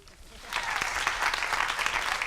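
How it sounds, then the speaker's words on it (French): An audience bursts into applause after a soft landing at a sports-themed event, a crowd of clapping that swells and then holds steady, with voices faintly underneath. "Vous pouvez l'applaudir."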